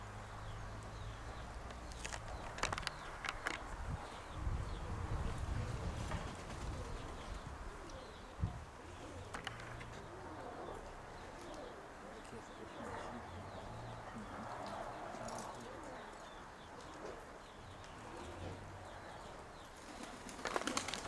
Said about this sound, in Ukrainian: Там ще є воно голуби.